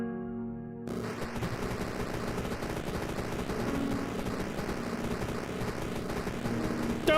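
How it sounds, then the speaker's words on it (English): Rapid automatic machine-gun fire in the video game Rift Wizard 3, a dense, continuous stream of shots that starts abruptly after a brief musical intro and keeps going loud and steady to the end. "I think the machine gun will work out pretty well"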